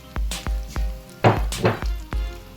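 Chicken nuggets drop into hot oil one after another, making a rhythmic series of soft thuds with bursts of sizzling and crackling, close and fairly loud, with no talking.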